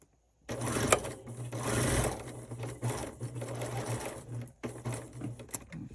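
A sewing machine stitching along a diagonal line on a quilt block runs in close, loud, continuous bursts with a steady mechanical whirr, pausing briefly several times between runs.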